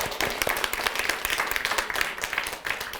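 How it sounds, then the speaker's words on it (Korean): An audience in a church hall applauds an elder, a steady, dense patter of many hands clapping throughout with no voices over it. "지금부터 그 장로님께 박수 한번 드려야 돼."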